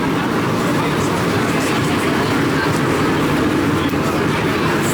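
A vintage 1950s-style New York subway shuttle train running toward Kings Highway during a transit museum parade of trains. It makes a loud, steady, broadband rumble and roar that never lets up.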